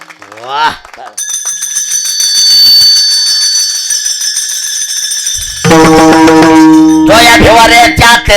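Brass taal hand cymbals ring out at a kirtan, long sustained metallic tones that shimmer on, then give way to dense, rapid clashing; loud and close, with a voice briefly heard at the start.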